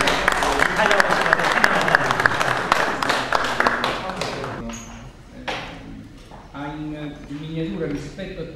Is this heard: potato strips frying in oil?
no